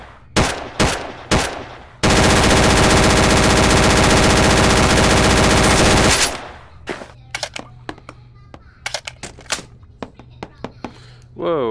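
A drum-magazine World War II gun in the Gun Club VR video game fires a few single shots, then unleashes one sustained, loud automatic burst lasting about four seconds, followed by scattered clicks and handling sounds.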